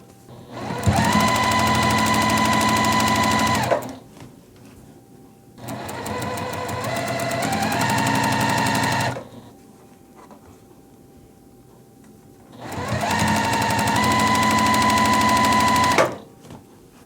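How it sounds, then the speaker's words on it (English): A sewing machine stitches a quarter-inch seam along a sawtooth star quilt block, three loud steady whirring runs of a few seconds each, separated by short quiet pauses. "I'm just going to take this over to my machine and just sew 1/4 inch right down this edge"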